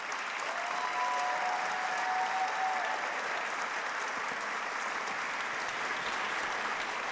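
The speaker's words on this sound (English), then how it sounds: "give him and the Hope Scholarship Program and the General Assembly members who supported the Hope Scholarship Program a big round of applause" Sustained applause from an audience at a state government address, steady and dense clapping filling the whole stretch with no talk over it.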